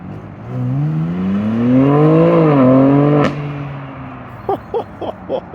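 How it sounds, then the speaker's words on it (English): A 2025 BMW M4 Competition xDrive coupe revs hard at launch, its exhaust rising in pitch, then cutting off with a sharp crack. Several short pops and burbles follow as it settles, loud and close. "Let's see how this exhaust sounds."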